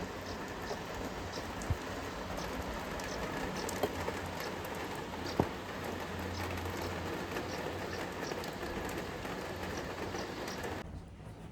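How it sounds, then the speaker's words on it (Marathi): Steady rain patters and hisses outside, a constant wash of drops with a few isolated louder taps, no voices. "बाहेर पाऊस बघा किती सुंदर वाटतोय ना"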